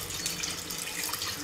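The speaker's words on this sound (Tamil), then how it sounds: "சிக்கன் வேகிறதுக்கு நம்ம இப்போது 1 டம்ளர் தண்ணி விட்டுக்கலாம்" Water from a tumbler poured into a pot of chicken for pressure-cooker biryani, a steady close splashing and trickling that runs the full moment without pause.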